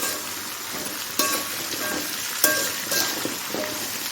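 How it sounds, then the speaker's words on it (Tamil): Sliced okra and onions sautéing in a pan for a Tamil vendakkai kuzhambu, a steady close sizzle with a few louder clatters of stirring. "இந்த வெண்டைக்காய் வந்து நல்லா வதங்கணும்."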